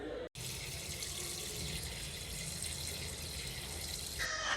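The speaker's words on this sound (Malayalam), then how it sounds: "നമുക്ക് നന്നാക്കി തന്ന മീനാണെങ്കിൽ നമുക്ക് കഴുകി വൃത്തി ആക്കി എടുക്കണം" Water runs steadily from a tap while cleaned fish are washed in a sink, a continuous close gush after a brief pause at the start, with no talk.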